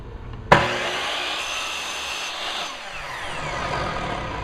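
A compound miter chop saw slices through MDF in a single cut, starting with a sharp bite and then a steady, loud whirring grind that holds for several seconds before tailing off.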